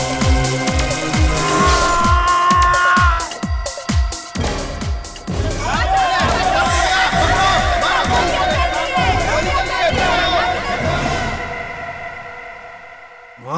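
A large, dense crowd clamors loudly, many voices shouting and calling at once, with a brief lull partway through before the noisy jostling din swells again and fades at the end.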